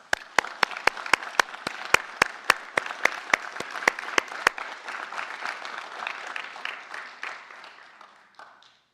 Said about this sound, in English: Please join me in a round of applause for our Barton Community College graduates